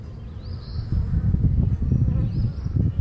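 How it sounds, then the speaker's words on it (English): A steady, low buzzing hum of a honeybee swarm clustered on a bird feeder close by, continuous and slightly pulsing, with no voices. "I got a swarm of bees here on one of my one of my bird feeders."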